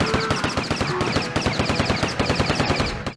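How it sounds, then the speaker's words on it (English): Rapid, loud repeated gunfire shooting a Pachycephalosaurus in The Lost World: Jurassic Park video game, an even rhythm of sharp shots about eight per second, continuous and close. "mashing to shoot a Pachycephalosaurus in the face is always fun"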